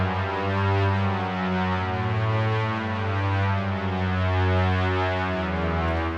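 Synth strings patch in FL Studio with unison panning at full width, playing sustained chords with rich layered harmonics, loud, steady and wide, with no voices over it.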